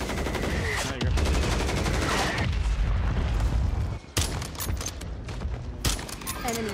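Mortar strikes in the shooter Warzone 3: booming blasts and rolling gunfire rumble loudly, with sharp explosive cracks punctuating the barrage while players talk over it.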